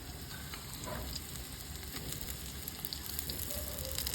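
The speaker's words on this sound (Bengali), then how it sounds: "আর বহুত তেল ছিটছে আর ভয়ও লাগছে উনুনে করছি বলে" Onion pieces fry in spattering oil in a pan over a clay stove, alongside nearly fried capsicum, giving a steady, dense sizzle with scattered crackles and pops throughout, moderately quiet and with no talking.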